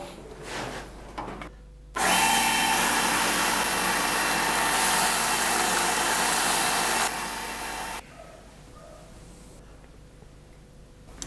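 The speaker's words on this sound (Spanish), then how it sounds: "Robustiano cambia la rueda de la banda para moldear el mango de la navaja con total precisión." A belt sander grinds and shapes a deer or bull antler knife handle, running as one loud, steady abrasive whir for about five seconds, with quieter workshop noise before and after.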